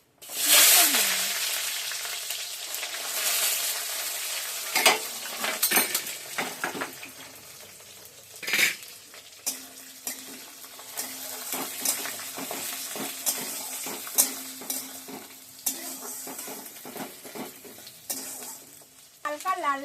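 Chopped onion sizzling in hot oil with bay leaf, cardamom and cinnamon for a chicken curry, with a spoon scraping and stirring the pan in irregular bursts over continuous frying.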